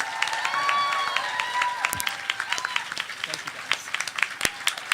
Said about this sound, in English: Can we get a round of applause for all of our readers?